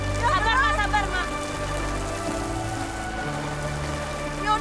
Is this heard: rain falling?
yes